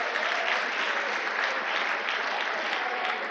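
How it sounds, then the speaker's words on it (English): Steady applause from an audience at a children's gardening and small animal rearing competition in Ghana, honoring a participant; dense, even clapping fills the whole stretch without pause. "Shall we give him a round of applause?"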